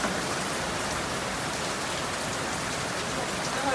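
Steady rain pours in Jamaica, a dense, even hiss of drops on surfaces filling the whole stretch at constant loudness, with no voices.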